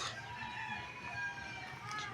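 Farmyard chickens crow and cluck close by in a steady, busy chorus that runs the whole time, with a rooster's crow standing out above the softer clucking.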